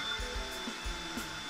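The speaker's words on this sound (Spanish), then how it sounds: "la aguja se va a empezar a pulir automáticamente poco a poco" A drill whirs steadily while it spins and polishes an airbrush needle, with a continuous motorised hum and soft rubbing pulses repeating in a rough rhythm, close up and alone.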